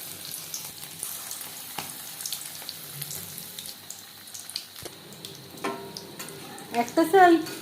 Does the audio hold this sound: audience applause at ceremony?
no